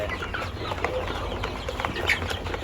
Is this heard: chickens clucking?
yes